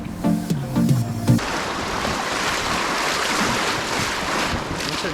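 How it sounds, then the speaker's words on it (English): River rafting on the Teesta river: a steady, loud rush of churning water and wind buffeting the microphone fills the clip after a brief musical snippet at the start. "and then it was time for river rafting."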